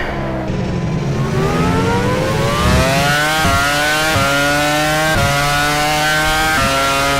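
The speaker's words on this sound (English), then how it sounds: "920-ish horsepower out of the Mercedes Ilmor through Eau Rouge." Mercedes Ilmor Formula One engine at full power in the rFactor racing game on the Belgian Grand Prix circuit, a loud, continuous high-revving scream climbing through upshifts with brief dips at each gear change, heard alone.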